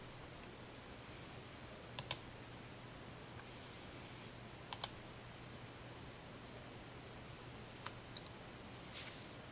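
Computer mouse clicks come as a few sharp, faint double clicks spaced seconds apart over a quiet background hum.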